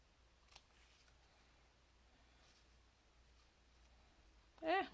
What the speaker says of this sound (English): And then snip my tails.